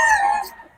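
A single loud rooster crow, brief and fading toward the end, rings out at a poultry sale in Bocaue where chickens are on offer.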